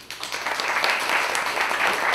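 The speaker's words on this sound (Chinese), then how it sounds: "那我们现在掌声欢迎方克州" An audience at a philosophy discussion event breaks into warm applause for an arriving speaker, a dense, steady wash of clapping that swells quickly and holds for about two seconds.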